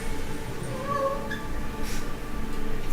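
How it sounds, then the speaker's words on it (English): Cats meow a few times in a video game scene aboard a spaceship, faint and partly masked by a steady hum of background noise. "They're meowing."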